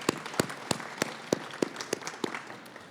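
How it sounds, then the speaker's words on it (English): Applause at a youth road-safety and mobility event honouring keynote speakers: a thin scattering of individual claps with sharp, evenly spaced slaps rather than a dense roar, moderately near and fairly quiet, with no talk over it. "Let's give everyone, including our keynote speakers, a second round of applause."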